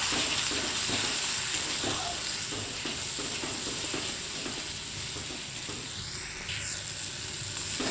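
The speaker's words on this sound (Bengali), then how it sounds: "এবার মশলাগুলোকে আমি ভালো করে কষিয়ে নেব।" Chili powder and turmeric sizzling in a pan while being stirred for a Bengali taro and potato curry, a steady soft hiss with faint scraping under the cooking.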